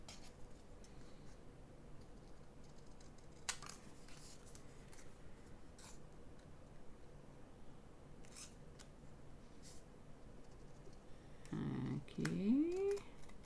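Scissors trim the sides off a paper piece for a diamond press craft project, giving a few faint close snips amid quiet room hiss, with a brief louder rustle near the end.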